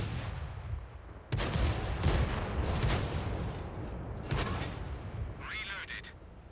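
Heavy artillery blasts in a tank video game, several loud booming shots spaced a second or two apart over a steady rumbling background, with a brief whine near the end.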